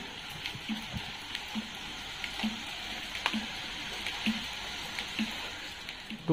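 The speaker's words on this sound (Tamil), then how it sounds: "விடிய விடிய மழை பெய்து கொண்டிருக்கிறது." Heavy rain falls steadily through the night, a dense continuous patter with scattered sharper drops striking a nearby surface at irregular intervals.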